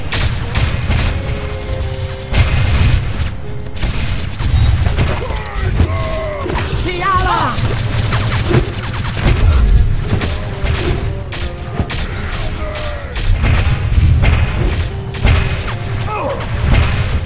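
Molotov fire and explosions in a close-quarters multiplayer video game match, with loud booms, crashes and shattering over a constant roar, while players talk over the action.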